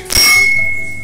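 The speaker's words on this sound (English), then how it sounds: "Let's hope I can find a bell." A single bell is struck aboard a fishing ship, giving one sharp ding that rings on with a long, steady, bright tone slowly fading, loud and close with no talk.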